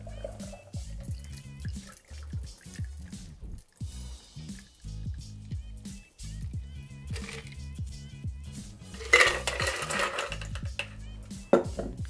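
A cocktail is double strained through a Hawthorne strainer and a fine strainer into a coupe, giving a faint trickle and dribble under background music, with a brief louder splash of pouring.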